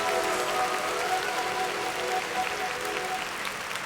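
Applause from a crowd, a steady, dense clapping that holds at an even level throughout, with faint tonal sounds lingering underneath.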